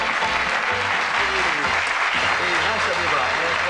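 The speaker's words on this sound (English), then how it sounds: "Give a nice warm round of applause to a Lancastrian, Mr. Billy Leonard." A studio game-show audience in 1982 breaks into loud, sustained applause, a dense wash of clapping that carries on steadily from start to finish.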